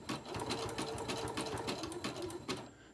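A sewing machine runs steadily at 2.0 stitch length, stitching fabric for a pennant banner, its rapid mechanical chatter continuous and close for about three seconds before stopping.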